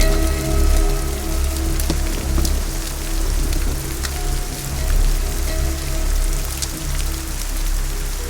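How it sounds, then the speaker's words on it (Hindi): Heavy rain with hail at night, a dense, steady patter drumming on surfaces with scattered sharper taps, loud and continuous throughout with no voices. "उस रात तेज बारिश हो रही थी और ओले गिर रहे थे।"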